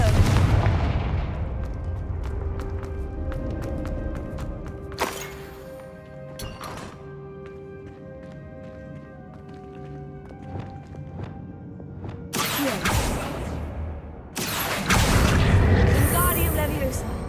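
Confringo blasting spell explosions in the Hogwarts Legacy video game: sharp blasts burst out amid ongoing game sounds and tonal effects, with a heavier cluster of booms near the end.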